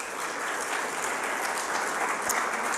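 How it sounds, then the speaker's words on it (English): Audience applause during a Sunday church service at a Unitarian Universalist fellowship, a dense steady clapping from a full room that holds at even loudness throughout. "you are all great and eager to clap"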